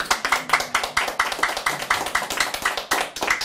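Lecture audience applause: a brisk, fairly close run of rhythmic hand clapping, steady and dense throughout with no talking over it.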